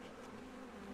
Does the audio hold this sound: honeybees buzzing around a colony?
yes